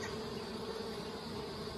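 Honey bees hum steadily at an Anel hive stacked with three honey supers on a hot day, a dense, continuous buzz that is close but faint.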